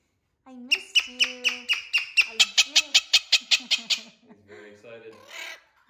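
A rescued pet parrot squawks excitedly in a rapid, loud run of about fifteen evenly spaced harsh calls close by, tapering into softer chatter at the end.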